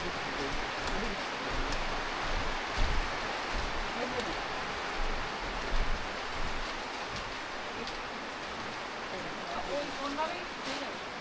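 Steady, even hiss of rain falling continuously at a hill home, with faint voices now and then beneath it.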